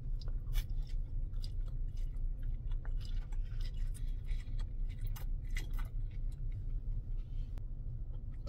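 Panda Express takeout food is chewed close to the mic during a mukbang, a steady stream of soft, wet chewing and small crunches with no talking.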